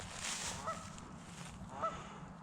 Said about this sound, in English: Sounds like we're coming right up on some geese too.